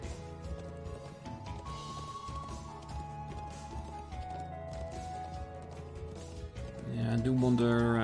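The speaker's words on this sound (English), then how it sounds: "we might as well use a horse to get there." Horse hooves galloping in the video game Trails of Cold Steel 2, a steady clip-clop rhythm running under game music throughout, with the music swelling louder near the end.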